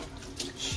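Hot tap water runs into a kitchen sink while dishes are rinsed, a faint, steady hiss of flowing water through the whole short moment with no talking.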